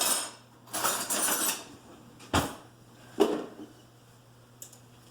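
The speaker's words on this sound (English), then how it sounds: "Do you need a spoon to spoon some in?" A spoon scoops flour from a container for pumpkin bread, with a soft rustling scoop followed by a few sharp metallic clinks and taps against the container, close and fairly quiet, without speech.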